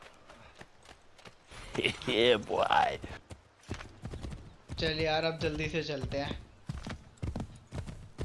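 Horse hooves clip-clop at a gallop in the Assassin's Creed III frontier, rhythmic and fairly close, heard under a man chatting casually throughout.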